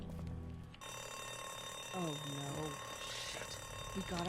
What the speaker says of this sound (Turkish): Şimdi bu alarm çaldığı için herkes toplanacak zaten.